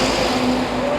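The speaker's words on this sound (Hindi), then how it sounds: "ये मेन हाईवे पे आप मेरे पीछे शोर सुन सकते हो," Constant roar of traffic on a main highway on the road from Delhi to Shimla, vehicles rushing past close by in a dense, unbroken wash of engine and tyre noise.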